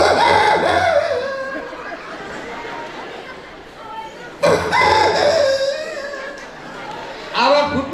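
A voice imitates a young rooster whose crow is just starting to break, giving loud, close, cracking crow-like calls: two long ones and a short third starting at the end.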